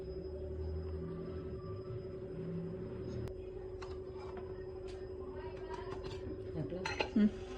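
A frying pan is set down and handled in a home kitchen while a cabbage dish is being cooked. Metallic clanks and light clinks of cookware sound over a steady low hum, fairly close but quiet overall.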